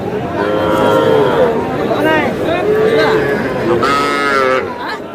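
Young bull calves at a cattle market moo repeatedly at close range, their drawn-out calls rising and falling over steady crowd babble and chatter.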